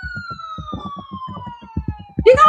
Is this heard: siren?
yes